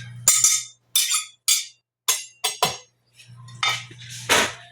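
Metal utensils scrape and clink against a pot as a beef roast is lifted out, a series of sharp, close, separate metallic knocks and scrapes with brief pauses between them and no talk.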